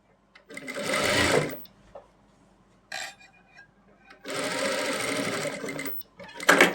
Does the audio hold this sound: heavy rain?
no